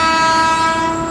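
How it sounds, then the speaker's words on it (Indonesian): A JR 205 series electric train sounds a loud, steady multi-tone horn that holds for about a second and fades slightly at the end, with no voices over it. "dari jauh sudah memberikan klakson"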